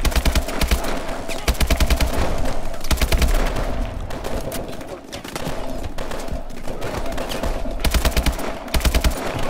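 Call of Duty Advanced Warfare gameplay with rapid automatic gunfire in loud sustained bursts and short gaps, plus a few heavy thumps, a voice faintly under the shooting.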